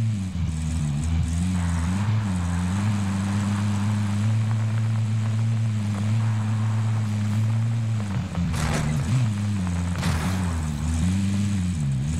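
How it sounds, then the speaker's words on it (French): Reconnaissance drone arriving overhead in Call of Duty: Warzone, a steady loud droning engine hum with a wavering propeller-like tone that holds throughout, with faint game noises briefly rising over it. "Un drone arrive sur zone."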